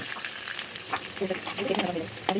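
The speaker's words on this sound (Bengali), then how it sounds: "এবার দেখো এবার পটল ভাজা" Shrimp and pointed gourd fry in a hot pan, giving a close, steady sizzle with crackling pops and stirring scrapes that grow busier toward the end.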